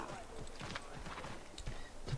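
Rhythmic hoof clip-clops of a horse at a steady pace in the video game Assassin's Creed III, with someone talking over them throughout.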